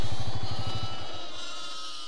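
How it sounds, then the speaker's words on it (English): A sheep being fed during lambing season gives one loud, close, pulsing bleat that trails off, with other sheep bleating more faintly afterward. "Okay, so we're just out feeding the sheep here."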